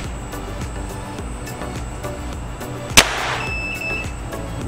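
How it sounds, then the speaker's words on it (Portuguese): A single sharp shot from a CBC B19x air rifle firing a heavy pellet, a lone crack midway through against a steady low outdoor background, with a brief ringing tail after it. "Segundo disparo."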